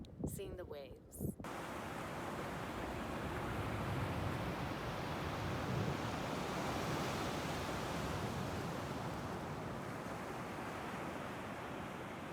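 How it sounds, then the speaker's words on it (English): Ocean waves wash onto a beach in a steady, broad roar of surf that fills the whole stretch, with a brief moment of voices and wind buffeting at the start. "The ocean, seeing the waves."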